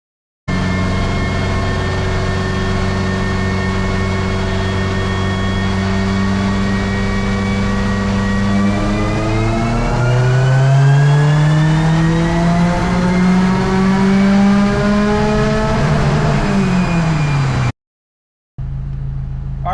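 A Subaru STi engine strains on a dyno in a sustained fourth-gear pull, its loud steady drone climbing in pitch across the run before cutting off abruptly near the end.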